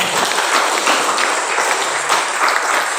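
Congregation at a church service clapping loudly together, a busy, continuous burst of applause with individual claps standing out, no voices over it.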